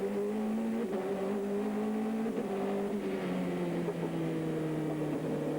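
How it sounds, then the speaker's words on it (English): A PTG BMW GT-class race car engine, heard onboard during a 2001 American Le Mans Series race, drones loudly and continuously, pitch climbing and dropping through gear changes, with no commentary over it. "And on board with Nicholas Johansson, of the PTG BMW team"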